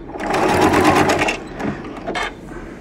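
A sewing machine runs a triple zigzag stitch along quilt binding, giving a steady fast mechanical whir with a rapid needle patter. It slows and pauses briefly, then starts up again for a short burst.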